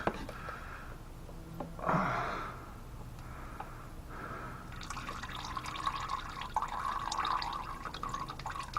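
Engine oil drains from a loosened plug into a drain pan. A brief splash comes first, then a steady trickling, gurgling stream builds and runs on close by.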